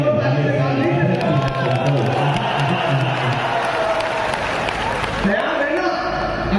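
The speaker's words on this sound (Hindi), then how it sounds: "इतनी कमजोर ताली से काम नहीं करता।" Crowd at a political rally in Dhanbad, Jharkhand, clapping and cheering in a continuous loud wash of applause, with a voice over a loudspeaker speaking through it.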